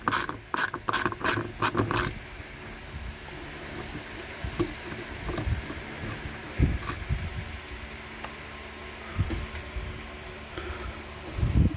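Ratchet clicking as a part is threaded down on a 1983 Porsche 944: a fast burst of sharp clicks at first, then sparser clicks and clunks of handling against a quiet garage background, no talking.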